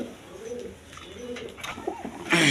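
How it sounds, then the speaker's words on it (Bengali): Pigeons at a pigeon market, including Gorra and Lahori birds, cooing in low rolling calls close by with a bustling market hiss behind, and a brief louder burst at the end. "দেখেন একবার গররা কবুতর আপনার চুইটাল দুটা নর্মাদি সেম টু সেম চুইটাল কবুতর দেখেন"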